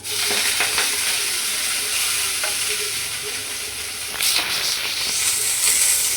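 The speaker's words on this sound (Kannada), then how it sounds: "ಫಸ್ಟು ನಾನು ಇದಕ್ಕೆ ಮೆಂತ್ಯ ಸೊಪ್ಪು ಹಾಕಿ ಬಾಡಿಸ್ಕೊತೀನಿ." Fresh fenugreek leaves sauté in a hot pan, giving a steady, close sizzle with hissy frying noise and occasional scraping stirs, louder bursts near the end, and no voices.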